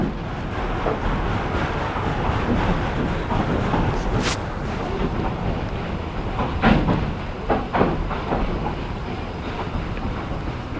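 Train running through open wilderness on a late-October excursion ride, a steady broadband rumble and rattle of rolling cars with wind buffeting the microphone and a few sharper clanks, continuous and fairly close, with no talking.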